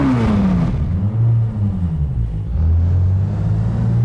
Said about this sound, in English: Start the engine and go for a ride.